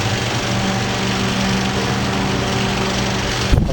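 A Sears Kenmore fan, model 135.80030, runs with a steady close motor hum and a continuous rattle, ending in a brief knock.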